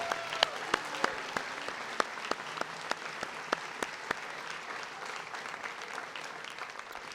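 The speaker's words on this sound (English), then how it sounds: "So a round of applause again for our senior parents and family members" Scattered, fairly faint claps ring out at a high school senior awards night, individual hand claps standing out over a soft crowd bed before thinning away.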